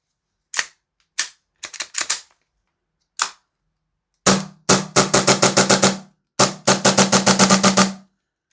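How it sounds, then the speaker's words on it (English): A Novritsch SSP-5 airsoft pistol is dry fired, its sharp snappy slide cracks coming first as scattered single shots and then as fast, rhythmic bursts, loud and close with no talking. "We'll do a dry fire first."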